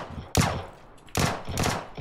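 Gunfire from the battle royale game PUBG, three sharp loud shots or short bursts spaced unevenly, each with a bright crack and a fading tail, no talk over them.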